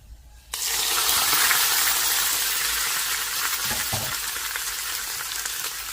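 A hot tempering of oil hits a bowl of okra in curd-based kichadi with a sudden loud, steady sizzle that keeps hissing for several seconds, with a brief clatter partway through.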